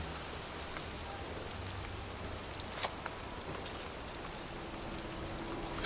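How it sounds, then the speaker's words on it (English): Heavy rain pours in a video game cemetery, a steady dense hiss of drops close by with a few faint clicks and knocks beneath. "standing in a cemetery in pouring rain"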